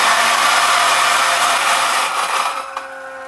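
An Option-O Lagom 01 coffee grinder grinds beans at low RPM, a loud, close, resonant whirring drone that holds steady and then fades as the grind winds down.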